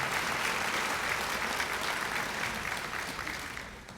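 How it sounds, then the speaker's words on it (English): Audience applause fills a scholarship night hall, steady dense clapping from a large crowd that holds loud throughout and fades slightly toward the end. "So let's give him a big hand for being here."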